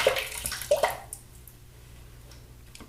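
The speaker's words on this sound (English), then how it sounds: "I'm going to add just a touch of water." A touch of water trickles and splashes into shaving soap lather as it is built, a brief bright splashing at the start that fades to quiet.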